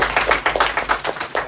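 A church congregation claps in a quick, steady rhythm of about a dozen sharp, fairly close claps in under two seconds, with no talking.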